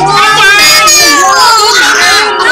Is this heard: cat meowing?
yes